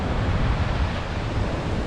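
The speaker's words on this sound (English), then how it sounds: "you'll see there's a couple of waves breaking" Surf breaking in the bay at Dolls Point, a steady broadband wash of waves with wind noise on the microphone, continuous and fairly loud throughout with no voices.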